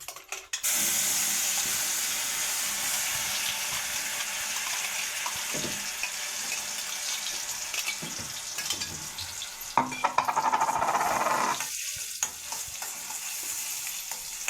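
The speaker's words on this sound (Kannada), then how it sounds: "ಈಗ ಇದಕ್ಕೆ ಪೈನಾಪಲ್ ರುಬ್ಬಿಟ್ಕೊಂಡೀನಿ ಇದನ್ನು ಹಾಕ್ತೇನೆ" Ground pineapple goes into a hot pan for pineapple kesari bath and hisses into a steady, loud sizzle with stirring scrapes, which swells briefly into a brighter bubbling surge near the end.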